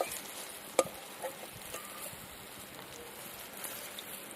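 Raw plantain fritters fry in hot oil, giving a soft, steady sizzle with scattered faint pops and one sharp click near the start.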